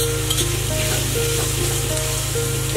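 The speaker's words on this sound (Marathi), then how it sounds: "आणि हे देखील व्यवस्थित परतून घेणार आहोत" Chopped capsicum and spring onion sautéing in a pan for soya chilli, a constant close sizzle with faint stirring scrapes, no voices over it.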